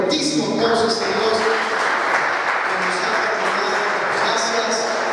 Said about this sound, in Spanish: ¿qué les parece si le damos un fuertísimo aplauso al Señor?